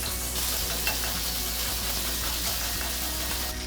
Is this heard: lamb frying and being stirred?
yes